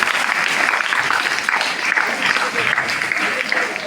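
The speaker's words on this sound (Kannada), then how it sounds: "ಚಪ್ಪಾಳೆ" Steady applause fills a school Independence Day celebration, a dense, loud clatter of many hands clapping continuously throughout.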